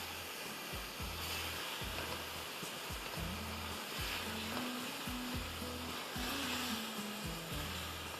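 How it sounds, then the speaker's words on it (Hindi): Tomato puree sizzles loudly in a pan for a pulao, a dense continuous hiss close up with a low rhythmic hum pulsing underneath throughout. "टमाटर प्यूरी डाल दी।"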